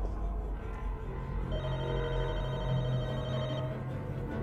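A phone ringing in The Walking Dead: Michonne video game, a tonal ring repeating over a low rumbling game background.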